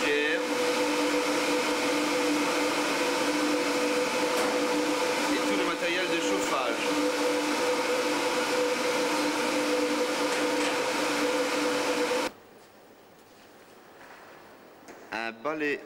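Loud, steady mechanical hum of swimming pool filtration pumps running continuously in a filter room, then cutting to a quieter room with brief talk at the end.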